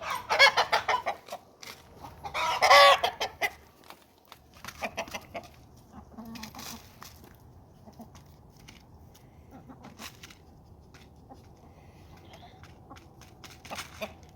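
Chickens cluck and squawk nearby in bursts, loudest early on, then scattered softer clucks continue against quiet outdoor background.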